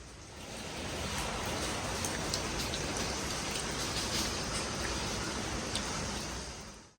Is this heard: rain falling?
yes